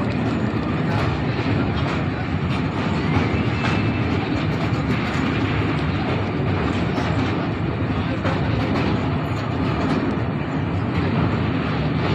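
The 18006 Jagdalpur Howrah Express runs through Odisha with a loud, continuous roar of wheels on rails and faint rhythmic clatter, heard steadily from inside the moving train.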